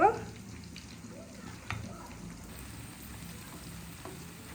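Garlic paste frying in a pan for a prawn bhuna, a faint low sizzle that holds steady under room noise after a soft clunk at the start.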